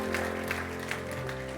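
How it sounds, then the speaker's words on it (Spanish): Applause rises from a congregation at a church sermon, a steady broadband clatter of clapping lasting under two seconds, fairly faint and blended with sustained keyboard or organ tones. "Dele un aplauso al Señor mejor"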